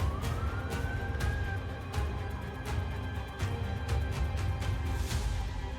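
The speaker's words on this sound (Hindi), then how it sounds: "इजराइल के कई शहरों में सायरन बज रहे हैं।" Air raid sirens wail across Israeli cities, a rising tone that levels into a steady, sustained howl over a dense background roar, continuous for the whole stretch.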